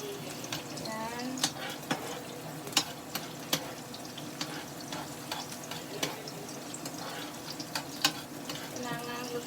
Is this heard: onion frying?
yes